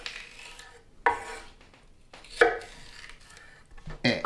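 A knife chops celery on a cutting board in three sharp, separate strokes, each a crisp close knock on the wood, with quiet pauses between them.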